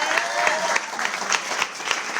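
Applause from a room of people at a weight-loss challenge party, steady dense clapping sustained throughout with no talking over it.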